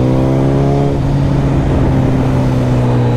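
A BMW S1000RR motorcycle engine revving hard in a drag race against a Honda CBR 1000RR, a loud, close, continuous roar whose pitch drops and shifts partway through as it changes gear.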